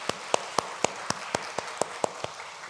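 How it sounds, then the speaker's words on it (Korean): Church congregation applauding the choir after a hymn, heard as a series of sharp, evenly spaced claps, about ten distinct hits over a quiet room background. "박수하겠습니다"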